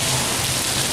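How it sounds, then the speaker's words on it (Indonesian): Heavy rain pours down outside a shopping mall in America, a dense, steady, loud hiss of falling water with no break. "Nih saudara, lagi hujan deras di sini nih."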